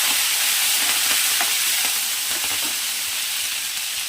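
Sliced onions frying in a pan and being stirred, a loud constant hissing sizzle with soft scraping stir sounds under it, no talk.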